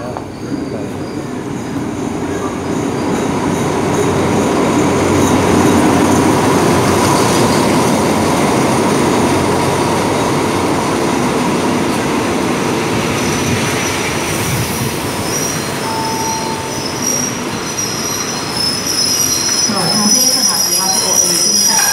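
A train at Ratchaburi railway station rumbles loudly and steadily for the whole stretch, with metallic wheel squeals rising over the continuous rolling noise near the end.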